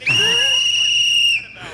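A single sharp whistle blast held for over a second amid a crowd at a political talk event, loud and steady before cutting off, with faint background murmur.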